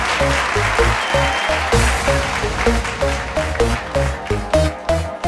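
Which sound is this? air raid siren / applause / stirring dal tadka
applause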